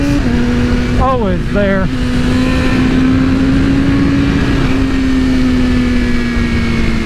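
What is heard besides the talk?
BMW M1000RR motorcycle engine accelerating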